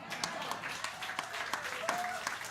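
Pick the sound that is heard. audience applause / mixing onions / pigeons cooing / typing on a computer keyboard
audience applause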